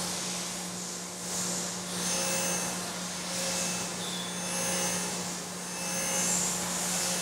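A grinder works a #2 Morse taper on a rotating fixture in a tool maker's shop, giving a steady, loud whirring hum with a constant low drone and gentle swells in level, with no talking.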